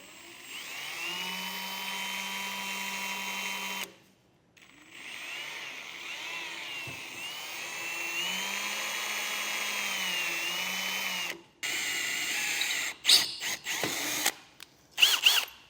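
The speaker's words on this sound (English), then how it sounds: "I'm going to start with the small pilot hole." A power drill bores a small pilot hole in metal while mounting a Curt QuickPin no-latch trailer coupler, giving a steady high whine in two long runs of about four and seven seconds, then shorter bursts near the end.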